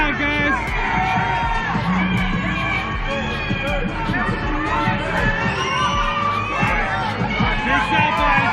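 Loud crowd noise fills a boxing press conference in Las Vegas ahead of the Terence Crawford and Errol Spence fight, a dense steady roar of cheering and babble with voices running through it the whole time.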